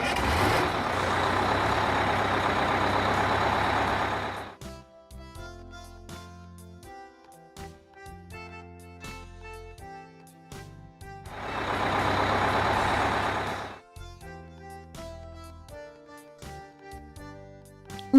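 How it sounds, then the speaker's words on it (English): A minibus engine drones loudly in two sustained bursts, each giving way to a lighter tune playing on its own. "Minibus."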